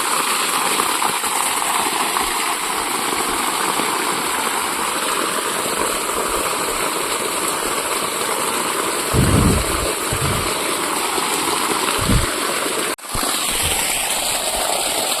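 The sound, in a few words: water pump motor running, watering garden trees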